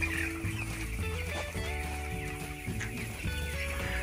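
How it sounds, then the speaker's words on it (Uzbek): Seventeen-day-old broiler chicks raised for meat inside a greenhouse cheep and peep continuously, a dense chorus of overlapping calls with a steady low background hum. "17 kunlik go'sht uchun baqilayotgan broiler jo'jalari"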